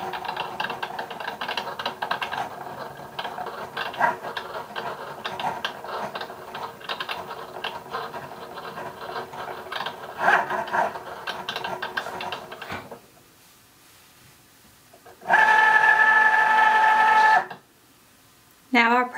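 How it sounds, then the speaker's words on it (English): A Cricut Joy Xtra cutting machine cuts around waterproof sticker paper, a steady whirring motor with busy clicking carriage movement for several seconds, then a pause, a loud sustained tonal whine, and brief quiet. "Now the machine will cut around each of the stickers."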